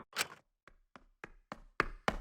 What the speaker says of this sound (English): We heard footsteps running fast down the hallway, the sound growing louder until the door burst open.